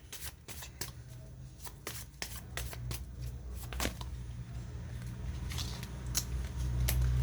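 Tarot cards are shuffled by hand in quick, irregular bursts of crisp riffling and slapping, close and fairly quiet over a low room hum, with no one talking.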